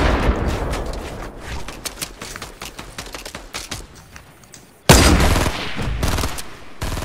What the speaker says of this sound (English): There's a more people shooting from the northeast.